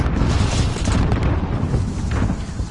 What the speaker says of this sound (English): Biscuit going with a long throw through Ordnance, trying to catch some early damage with the grenades.